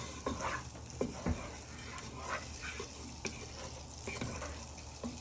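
A wooden spoon stirs carbonara sauce in a pan, giving soft scraping strokes and a few sharper clacks over a faint bubbling sizzle, fairly quiet and close with no talking.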